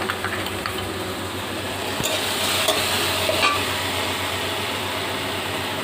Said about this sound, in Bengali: আর দইটা আমি ফেটিয়ে নেব।